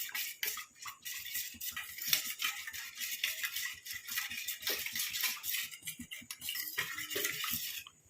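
A spoon stirs a thick cornflour and gram flour paste in a bowl, giving quiet, continuous rhythmic scraping and light clinks against the sides.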